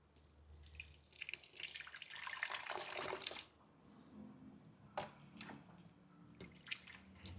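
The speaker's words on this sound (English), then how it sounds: "So I'm gonna add in just a little bit more water." Water from a tap pours into a cooking pot while Ghanaian mpotompoto is prepared, a fairly loud splashing stream for about three seconds, followed by quieter scattered drips and small clinks.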